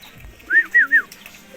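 Racing pigeon call in rural Candon, Ilocos Sur: three short, bright, evenly spaced notes in quick succession, fairly close against a quiet background.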